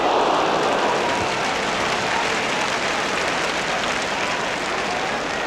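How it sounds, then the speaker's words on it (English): Crowd applause and roar from a football stadium during a Chelsea v Manchester City FA Cup fourth-round match, a dense continuous wash of noise holding steady and loud throughout. "Hollins getting a bit of applause there from Peter Bonetti"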